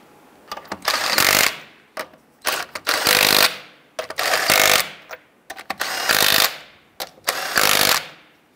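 A power tool snugs down wheel lug nuts on a 1994-2004 Ford Mustang in five loud, rattling bursts of about a second each, every burst preceded by short clicks and separated by brief pauses.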